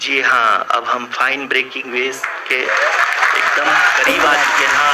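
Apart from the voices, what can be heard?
applause in mission control during Chandrayaan 3 landing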